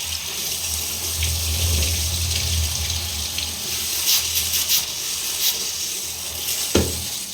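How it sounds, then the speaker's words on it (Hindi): Steady running tap water pours into a bowl of lentils being rinsed, a constant close splashing rush with occasional clinks and swishes of the lentils being stirred. "जितना पानी डालेंगे उतना फैन ही निकलेगा।"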